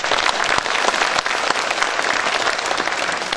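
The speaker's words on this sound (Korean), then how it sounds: "박수를 한번 쳐주시기 바랍니다." A hall audience at a construction new-technology expo in Gyeonggi Province claps loudly and steadily for a few seconds, a dense unbroken applause.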